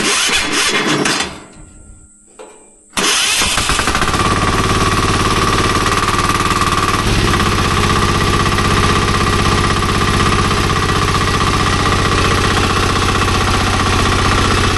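A remote control mower's engine starts with a short sputter, then runs continuously at a loud, steady idle close by, with a droning, slightly knocking tone throughout.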